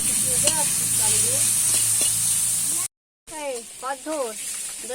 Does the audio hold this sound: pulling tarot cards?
no